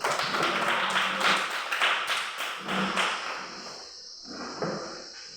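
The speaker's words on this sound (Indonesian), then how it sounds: "tepuk tangan untuk kelompok 1" A classroom full of students claps for group 1, a dense burst of applause that fills the first few seconds and then thins out into scattered claps.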